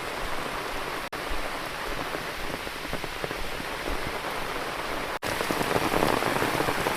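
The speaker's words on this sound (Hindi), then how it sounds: "पहाड़ों में बहुत तेज़ बारिश हो रही है" Heavy rain pours steadily in the wooded hills near a forest hermitage in Chitrakoot, a dense, continuous hiss of drops drumming on surfaces close by, with no voices.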